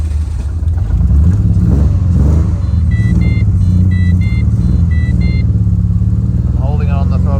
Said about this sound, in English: I'm holding it on the throttle